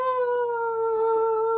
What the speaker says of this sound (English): the dogs are going to start barking